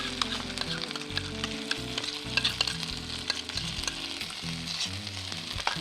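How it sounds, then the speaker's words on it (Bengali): Green pea paste for kachori filling sizzles in a karahi while being stirred, giving a constant close crackle with scraping strokes and a low steady hum beneath. "এবারে ভালো করে নাড়তে থাকবো।"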